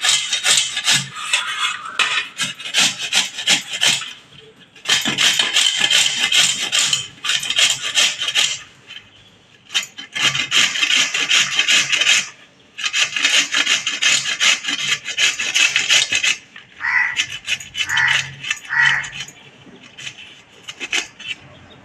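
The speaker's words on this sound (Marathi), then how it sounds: "किसून घेते सगळे" Kohlrabi being grated by hand on a kitchen grater: loud, close rasping strokes in rhythmic bursts separated by short pauses.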